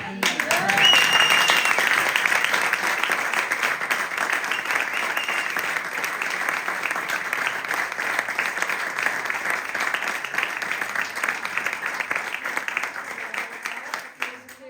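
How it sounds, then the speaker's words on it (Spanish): Steady applause from an audience at a literary talk and book presentation, a dense, even wash of clapping that holds for about fifteen seconds before cutting off, with a brief voice near the start. "Yo quería permitirme pedir un aplauso para Concha"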